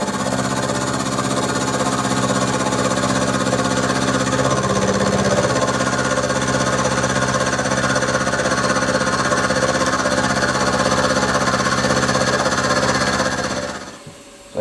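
A milling machine fly-cuts the top and faces of a rescued vise salvaged from a skip, giving a loud, steady machining drone with a rhythmic tick for about fourteen seconds before the spindle winds down.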